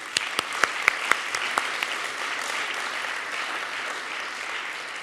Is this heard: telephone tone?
no